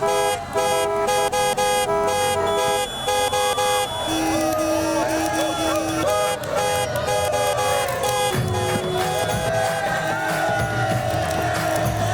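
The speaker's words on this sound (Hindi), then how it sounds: "हॉर्न बजाओ, हॉर्न बजाओ, नहीं तो ये भीड़ नहीं हटने वाली।" A car horn blares in repeated toots while pushing through a thick crowd on a street, set over loud music and cheering voices that run throughout.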